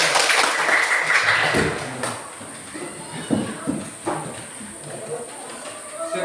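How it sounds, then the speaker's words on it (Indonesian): A classroom of students claps on cue from their teacher, a burst of applause that is loudest at the start, fades within a couple of seconds and leaves faint room noise and scattered small sounds. "Tepuk tangan dulu."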